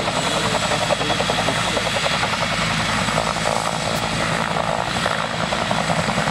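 A Bell AH-1S Cobra attack helicopter thunders close by, its rotor chop and turbine roar loud and continuous throughout with no pauses or voices.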